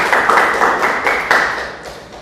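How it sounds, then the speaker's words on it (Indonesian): A lecture audience claps at the end of a presentation, giving a dense, steady applause of many hands. It is loud and close and runs throughout. "Kita kasih aplaus dulu"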